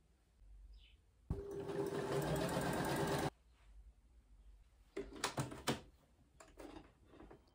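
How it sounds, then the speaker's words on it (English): Sewing machine stitching the side seams of a fabric bag, a steady close whirring run of about two seconds followed by a few short bursts of stitching. "For convenient sewing, I sew on gusset like this, and then I need to sew sides."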